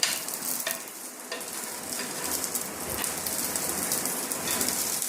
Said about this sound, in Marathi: हिरव्या मिरच्या तळून घेते